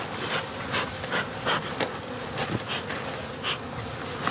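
Dense, close buzzing of many honeybees, a steady drone with individual bees swelling louder as they fly near, no voices.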